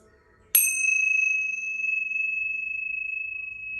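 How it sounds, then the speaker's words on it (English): A single strike of tincture bells rings out clearly, then a pure sustained tone hangs and slowly fades for several seconds, ringing alone in a quiet room to clear energy from tarot cards. "I'm just going to use the tincture bells to knock out any of the energy from the last reading"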